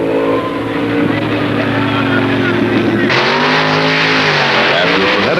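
Twin-engine dragster racing in a drag final, one engine failing from a broken magneto, roars steadily and loud, its pitch shifting midway as another engine note surges; a voice talks over the engine noise.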